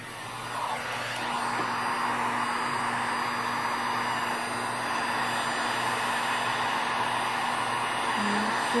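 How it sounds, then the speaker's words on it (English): A heat gun blows steadily over an acrylic pour painting, a continuous airy roar that stays close and even throughout with no talking. "let's see what the heat gun can do"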